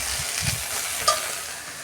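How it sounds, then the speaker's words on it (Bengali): Okra fries in a pan, giving a steady close sizzle with faint stirring scrapes and a sharp clink near the end, and no voices. "ঢ্যাঁড়সটা ততক্ষণ ভাজা হোক"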